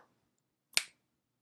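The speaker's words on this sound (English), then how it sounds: "I'm going to snap my fingers" A single sharp finger snap, crisp and close, cutting through otherwise near silence after a brief trailing breath at the start.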